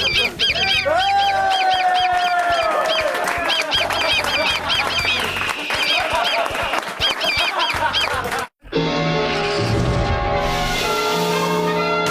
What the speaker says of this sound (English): Oh, where are these birds coming from?